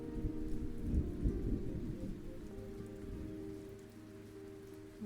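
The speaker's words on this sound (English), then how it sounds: "And then I'm going to get some thunder." Rain and rolling thunder from an ambience app play steadily and evenly, with a low rumble swelling near the start and then easing off into a continuous patter of rain. No one speaks.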